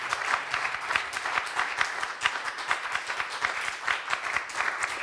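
An audience at an intimate concert applauds the guitarist, steady warm clapping from a modest crowd that holds evenly throughout without cheers.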